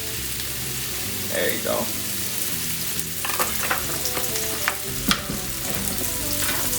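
Honey garlic mushrooms fry in hot oil in a pan, a continuous close sizzle with occasional stirring clicks, while a person speaks briefly over it.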